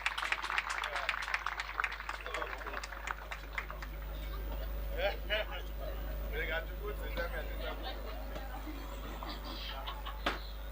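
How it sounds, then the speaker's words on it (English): Applause for officials at a Central-South Africa sports qualifier: a burst of close, crisp clapping at first that fades into quieter, scattered claps over a low hum and room noise, with some murmuring voices. "Another big round of applause to all our officials"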